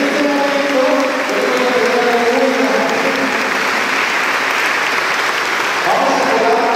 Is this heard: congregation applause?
yes